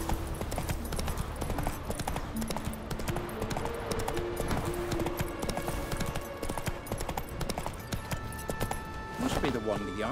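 Horse hooves clip-clop at a steady walking rhythm under ongoing game music and voices, as the horse Roach trots in The Witcher 3, with a brief whinny-like sound near the end.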